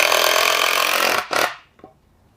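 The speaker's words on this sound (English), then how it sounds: "we're just going to go ahead and screw that in" A power drill whines steadily as it drives a screw into a wood board while building an elevated stand, stopping abruptly, then a brief second whir and a faint knock, close and loud.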